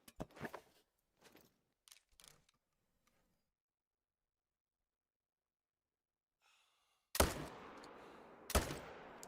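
Two loud rifle shots in theHunter: Call of the Wild during a grey wolf hunt, sharp sudden blasts with a lingering rumbling echo, coming after a stretch of quiet and some soft breathing.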